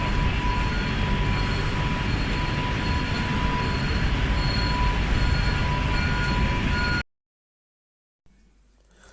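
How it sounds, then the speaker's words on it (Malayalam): An Avanti West Coast train at a London Euston station platform gives a loud, steady rumble with a faint high whine for about seven seconds, then the sound cuts to silence and returns faintly at the end. "ഇതാണ് നമുക്ക് പോകാനുള്ള ട്രെയിൻ,"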